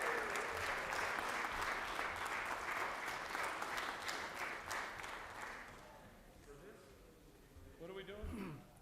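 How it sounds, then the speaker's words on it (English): Applause fills the Georgia Senate chamber as a sustained round of clapping, then fades out, and a voice speaks briefly near the end. "let's give him another round of applause for all of his years of service"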